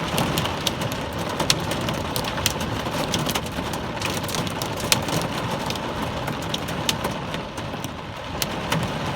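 Heavy rain pours during a major Colorado rainstorm with lightning and hail, a constant loud hiss dotted with sharp pattering impacts that stays dense throughout, with no voices.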